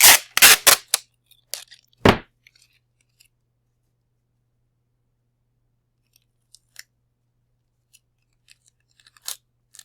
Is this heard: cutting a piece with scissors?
yes